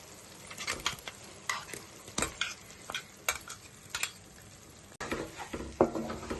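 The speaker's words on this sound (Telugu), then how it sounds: "మనం ఇప్పుడు మిక్సీ పట్టుకున్న మసాలా వేసి వేసుకుందాం నూనెలో" Ground masala fries in hot oil while a spoon stirs it in a pan, with a continuous sizzle under repeated scraping clinks of metal against the pan at an irregular rhythm, all close and fairly loud.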